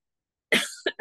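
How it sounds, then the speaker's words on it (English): Someone coughs sharply three times in quick succession, close by, after a moment of silence. "Pardon my cough"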